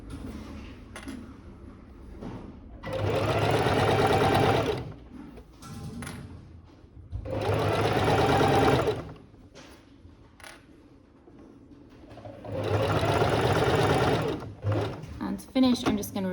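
A sewing machine stitches bias binding onto a quilted waistcoat in three sustained bursts of running, separated by pauses where a voice talks quietly, with brief reverse-and-forward stitching near the end.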